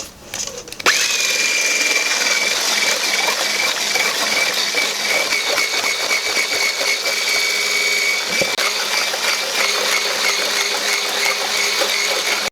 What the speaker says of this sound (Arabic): غادي نطربوا هذا البيض حتى يتبلونشا، حتى يرجع اللون ديالو قريبه الى البياض